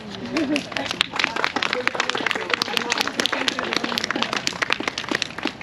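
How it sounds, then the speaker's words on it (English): A group on a Juneteenth walking tour of Eatonville, Florida, claps in steady, dense applause that runs the whole stretch, with some talking mixed in near the start. "I think we should just give her a round of applause"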